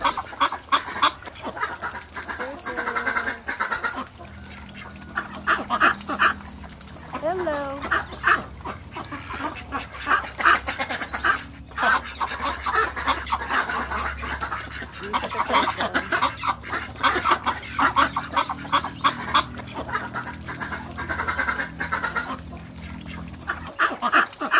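Ducks and chickens call on a farm, with repeated quacks and clucks coming close and clear, mixed with people talking nearby.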